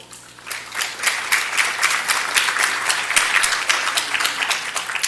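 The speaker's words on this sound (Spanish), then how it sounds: "Un aplauso, por favor." A conference audience in an auditorium breaks into applause that swells quickly and continues as a dense, lively clatter of many hands at a steady level.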